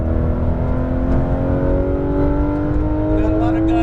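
A sports car on a racetrack, engine held at light throttle and then eased up a little, giving a loud, steady droning hum with a slowly rising pitch, close up and continuous throughout.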